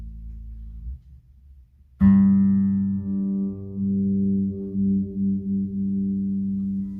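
A sustained bass guitar note rings through a Hartke HD500 bass amplifier after a low rumble, holding steady with slight wavering swells as its tone shifts.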